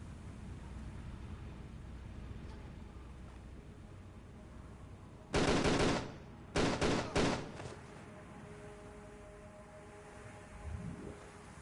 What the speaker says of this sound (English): Why did I hear a gunshot as soon as I went down here